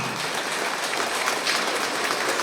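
An audience at a ceremony honouring ALP students applauds in a dense, even wash of clapping that holds steady throughout without a break.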